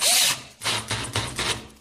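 A cordless drill/driver starts a hole, giving a loud whir followed by several short, pulsing bursts of the motor as the bit bites into the workpiece; no talking.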